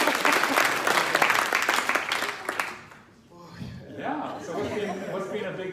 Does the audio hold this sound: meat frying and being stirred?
no